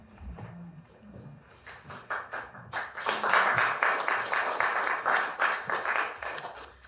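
An audience claps for a poet at a reading, starting quiet and scattered and building into fuller, steady applause, with a voice heard briefly at the start.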